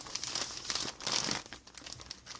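A large plastic zip-lock bag holding DIY craft supplies crinkles and rustles as it is handled, a close series of crisp crackling bursts with short pauses, moderately loud and alone.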